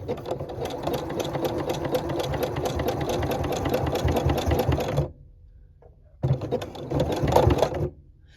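A sewing machine with a button foot stitches across a button, a close, loud, steady rapid whirring clatter that stops, pauses, then runs again in a shorter burst.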